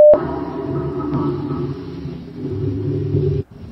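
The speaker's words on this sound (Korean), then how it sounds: "비가 쏟아지는 동안 천둥 소리가 들린다" AI-generated thunder over pouring rain, heard as a sustained low rolling rumble that opens with a brief tone and cuts off sharply.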